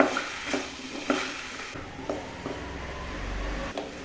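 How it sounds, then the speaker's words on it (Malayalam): Okra pieces are stirred into a tomato curry in a pan, giving soft scraping and clacking strokes at an irregular rhythm over a quiet sizzle, close and fairly faint, with no talking. "ഇനി ഇതിലേക്ക് ആ കഷ്ണങ്ങൾ ഇട്ട് ഒന്ന് ഇളക്കുക."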